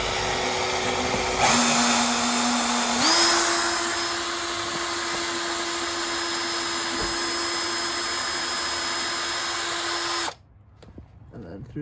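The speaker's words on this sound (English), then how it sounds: "we're just drilling through the pre-drilled holes" A power drill whines steadily and close for about ten seconds, drilling through pre-drilled holes to fit a car's rear diffuser, its pitch rising slightly after a brief slowdown, then cuts off abruptly into quiet room noise.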